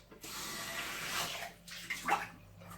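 Cold water pours into a blender holding oats, a close, rushing splash that swells, briefly eases, then surges again before tapering off, with no talk over it.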